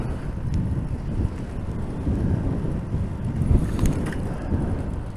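Wind buffets the microphone during a downtown bike ride, a steady, heavy low rumble with gusty swells, loud and close, with no speech.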